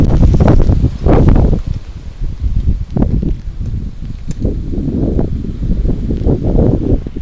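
Gusty wind buffeting the microphone and rustling leaves at a rural coffee-planting site, with uneven bursts of blustery noise rising and falling throughout, fairly loud and close, no voices.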